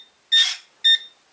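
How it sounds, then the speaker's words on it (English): Two short electronic beeps from a 2.4GHz DSM radio control transmitter entering bind mode, each about a quarter second long, spaced roughly half a second apart, clear and close with silence between. "the transmitter has now gone into bind mode with a beeping"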